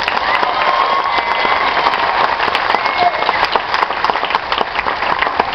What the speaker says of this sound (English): Show some love for Mr. Cushy Roberts.